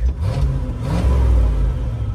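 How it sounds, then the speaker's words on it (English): A 1967 Dodge W200 Power Wagon truck rumbles through its glass pack exhaust, a steady low, throaty engine drone with a slight rev, close and fairly loud, with no talking. "I just learned this truck has a glass pack."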